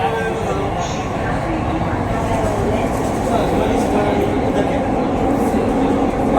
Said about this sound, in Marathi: underground metro